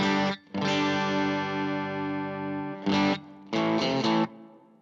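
Electric guitar played through a Boss IR-2 into a Past Effects Chorus Ensemble pedal split to stereo, giving a distorted, chorused tone: one long sustained chord, then a few shorter stabbed chords, close and alone.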